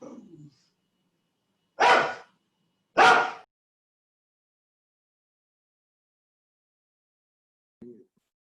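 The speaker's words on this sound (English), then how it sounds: "Oh, I'm sorry, my dog." A dog barks twice, a second apart, sharp and fairly close in an otherwise quiet room, followed later by a faint short sound.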